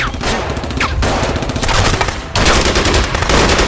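Loud, sustained bursts of automatic gunfire in a dramatic Kashmiri thriller film scene, rapid cracks running almost continuously with a brief break midway before the firing resumes.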